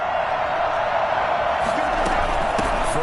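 A football stadium crowd roars steadily after a big run play, a dense, continuous wash of cheering with no pause throughout.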